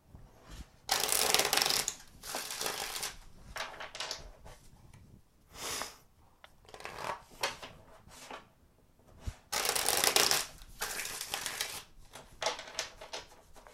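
Tarot cards are shuffled in several quick riffling bursts, crisp and close, separated by short pauses and light handling clicks.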